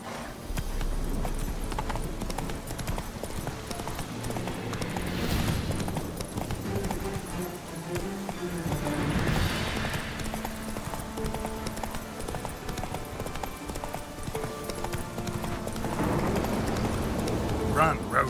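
Galloping hooves of the horse Roach in The Witcher 3, a continuous rhythmic clip-clop at moderate volume running throughout, with game sound and occasional speech layered over it.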